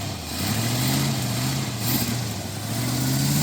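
A big-block truck engine running on seven cylinders with a missing spark plug, idling loud and close with a rough, uneven drone that swells slightly as it is given a little throttle.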